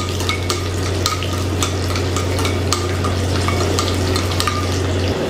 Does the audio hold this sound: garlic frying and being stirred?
yes